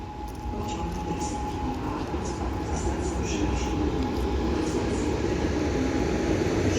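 A steady, low mechanical rumble of an Elf 2 electric multiple unit train departing toward Toruń Główny, with a faint sustained whine and a muffled voice in the background.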